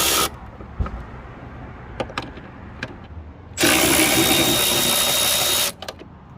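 A ratchet removing 8mm bolts from the rear taillight of a 2009-15 Honda Pilot: a few sharp clicks, then a continuous whirring run of about two seconds, close by, followed by a couple more clicks.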